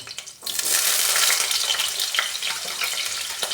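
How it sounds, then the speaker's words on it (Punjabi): Potato pieces frying in hot oil for a cauliflower sabzi, with a loud continuous sizzle that flares up suddenly after a brief quiet start, close by. "ਆਲੂ ਨੂੰ ਵੀ ਅਸੀਂ ਤੇਲ ਦੇ ਵਿੱਚ ਫਰਾਈ ਕਰ ਲਾਂਗੇ"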